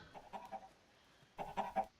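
Chickens cluck on a farm in a video game, two short bursts of soft, quiet clucks separated by a brief pause.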